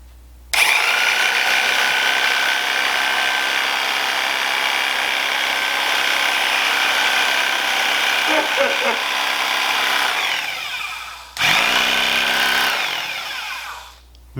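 A reciprocating saw (Sawzall) with a 3D-printed attachment runs loud and steady for about ten seconds, cuts out briefly, then starts up again with a rough, buzzing whine.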